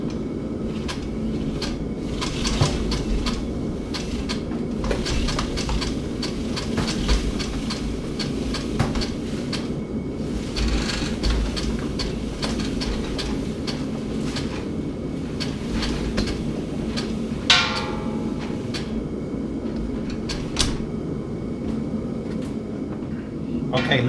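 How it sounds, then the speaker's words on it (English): A Reelworks air hose reel rewinds its hose with a continuous rattling, rumbling whir and scattered clicks and knocks that run steadily for about twenty-four seconds. "Now I can go ahead and rewind the hose reel."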